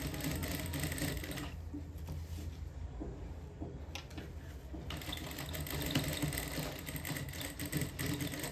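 A sewing machine stitches lace along the edge of a saree, running in a steady whirring hum that briefly eases off in the middle before resuming at an even pace.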